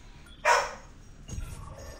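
A pet dog named Rocket gives a single sharp bark close by, followed a moment later by a softer, lower rumbling sound.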